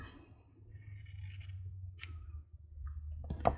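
Scissors snip through fabric in a few crisp, close cuts over a low background hum, with one sharper snip near the end.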